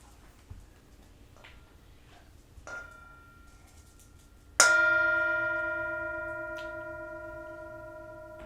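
A meditation bell is struck once partway through a dharma talk, ringing out clearly and decaying slowly over several seconds after a few faint earlier taps and quiet room tone.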